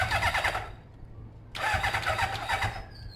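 A Kawasaki ZZR600 motorcycle that has not been running, with the chokes on, cranks over on its starter. There are two loud, sustained whirring bursts with a short pause between them, and the engine does not catch.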